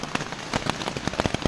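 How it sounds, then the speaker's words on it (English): Rapid irregular pattering of heavy rain drumming on a taut tent surface in the Great Smoky Mountains, steady and close, with sharper drops popping through the constant wash. "it's pouring rain and bouncing"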